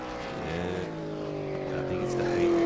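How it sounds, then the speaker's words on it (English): V8 Supercar engine in a racing sim at Imola, revving steadily higher with rising harmonic whine, fairly constant and moderately loud, heard alone without talk. "Listen to that engine screaming."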